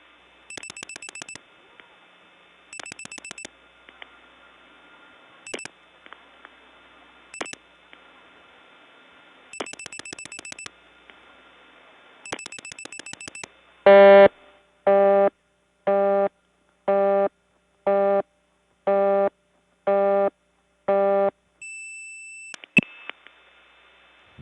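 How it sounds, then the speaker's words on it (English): A 1979 step-by-step telephone exchange office: short bursts of dialing tones first, then a loud busy signal of about nine regular on-off pulses, followed by a few brief electronic tones near the end. "The busy signal was so loud there that I had to sneak the volume down."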